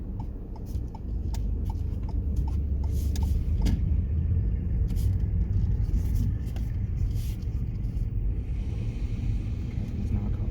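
A car rumbles along steadily during a driving lesson, with low engine and road noise filling the whole stretch and a faint repeating tick, like an indicator, near the start.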